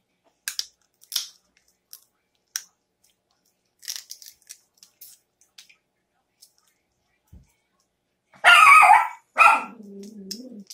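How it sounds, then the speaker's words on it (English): A dog gives a couple of loud, close barks late in a quiet night scene, after scattered soft crunching clicks, followed by a voice speaking. "Sometimes he just bark just to be barking."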